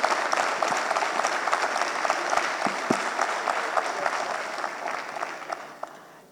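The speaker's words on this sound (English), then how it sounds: "Let's give him a big round of applause." A seated audience at a university housing and real estate event gives a steady round of applause lasting several seconds, dense and even before tapering off at the end.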